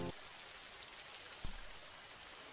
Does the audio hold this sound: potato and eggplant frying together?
no